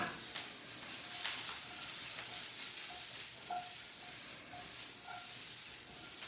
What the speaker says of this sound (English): Nice little saute on them, folks.